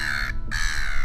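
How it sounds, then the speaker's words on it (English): A single harsh gull call at Busselton Jetty, a raspy cry with a brief break in the middle, heard fairly close over steady outdoor background noise. "Look at the seagulls."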